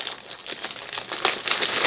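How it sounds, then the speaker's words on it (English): Plastic packaging around a gift pack of sweets crinkles close up, a rapid, crackling rustle of irregular bursts that continues steadily for about two seconds. "sorry about the crinkling"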